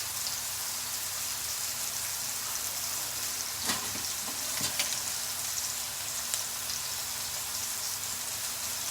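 Meatballs fry in a pan with a steady close sizzle and crackle throughout, broken by a few brief clicks and taps of tongs or utensils, with no talk.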